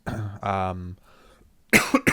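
A brief voiced sound, a pause, then two sharp, loud coughs in quick succession close to the mic.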